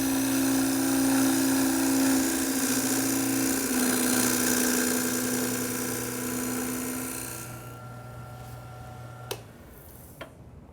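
A wood lathe spins a toy top blank while a gouge cuts across it, bevel rubbing, giving a loud steady whine with a low hum for about seven seconds, then it drops to a quieter hiss punctuated by two sharp ticks.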